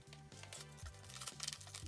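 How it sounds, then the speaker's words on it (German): A parcel from Spain, wrapped all over in sticky tape, is unpacked at close range, with soft crinkling and tearing of packaging that sits over a low, repeating background hum. "ich bin bestens ausgerüstet, um dieses erste Päckchen, das ist aus Spanien, mal auszupacken"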